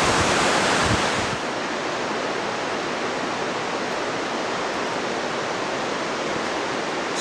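The glacial Carbon River at Mount Rainier rushes past in full flood, a loud, unbroken roar of churning water close by that eases slightly after the first second and holds steady, with no voices.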